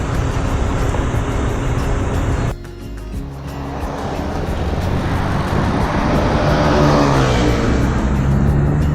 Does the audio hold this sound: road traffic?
yes